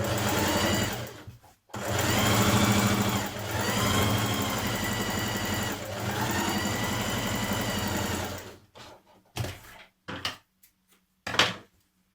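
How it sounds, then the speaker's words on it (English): A sewing machine runs stay stitching a few millimetres from the edge around a dress neckline, a fast, steady mechanical whir in long runs with short pauses, ending in a few brief stop-start bursts. "we're going to do a line of stitching a few millimetres from the edge all the way around the neckline"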